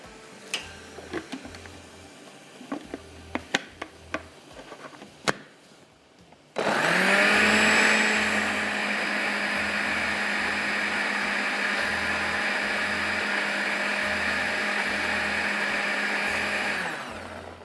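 Carrot chutney with a little yogurt is ground in a blender, preceded by several sharp clicks and taps, then a loud steady motor whir that runs about eleven seconds before cutting off.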